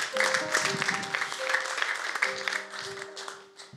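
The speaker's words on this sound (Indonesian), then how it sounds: "Kita berikan tepuk tangan" Applause from an audience welcoming a guest captain onto a church evangelism program, fairly loud and close, with steady tones from background music running under the clapping.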